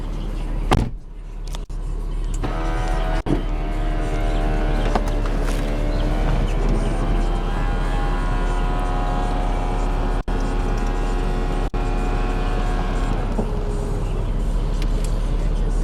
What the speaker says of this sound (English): You're going to open the convertible top.